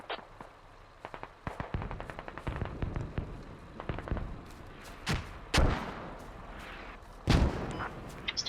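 Repeated explosive thumps and blasts from mortar fire in a tactical military video game, BLUFOR versus SRG, some in rapid clusters and a few heavy booms standing out, mid-distance with no talk.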